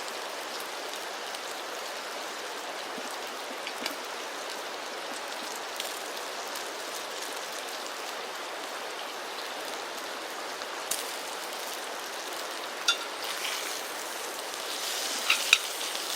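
Steady light rain patters on a military pup tent throughout, a dense crackling hiss with occasional louder drops near the end.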